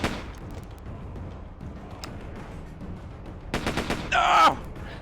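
Video game gunfire, quiet scattered shots at first and then a louder cluster of rapid bursts and a sharp crackling blast toward the end.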